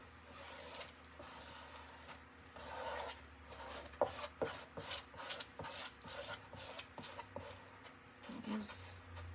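Someone firmly rubbing down a stencil by hand, uneven scraping and brushing strokes close by with soft taps, while a voice talks intermittently over it.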